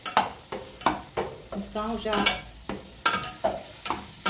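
Onion and five large garlic cloves sauté in a thick pressure cooker pot used without pressure, a steady sizzle broken by rhythmic spoon stirs and scrapes, with a brief word spoken.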